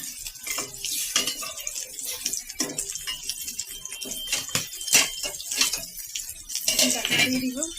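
Potatoes stirred with a little water in a pan, next to a spiced eggplant masala, give repeated scraping and clinking of a spoon against metal in uneven bursts, close and moderately loud.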